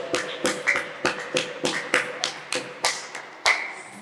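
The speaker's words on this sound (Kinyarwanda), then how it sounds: "Komera Imana amashyi izina rya Yesu" A church congregation claps together during a worship service: about ten evenly spaced, crisp claps in a steady rhythm, with no talking over them.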